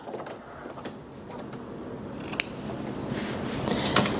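Scissors snip through fabric while sewing a vintage Simplicity halter top and wrap skirt, giving a string of crisp, close cuts with quiet rustling between them and no talk.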